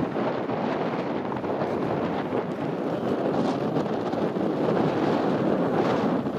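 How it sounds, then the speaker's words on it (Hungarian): Strong headwind roars and buffets the microphone while cycling in Slavonia, Croatia, in a steady, dense rush of noise, loud and unbroken throughout. "bármennyire is rossz ez a szél, mert eléggé fúj és legtöbbször szemből"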